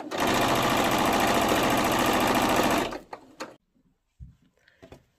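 A sewing machine stitches the hem of a cotton jersey blouse in one fast, loud, continuous run of about three seconds, then stops, leaving a few soft clicks and handling noises.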